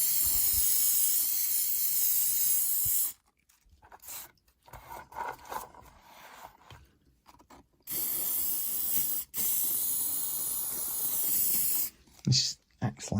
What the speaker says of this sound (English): give it a spray with hairspray